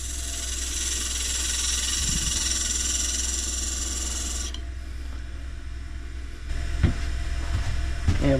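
A skew chisel cuts a wood bowl on a lathe, giving a steady hissing scrape over the motor's hum that stops midway, followed by a lower hum and a few soft knocks.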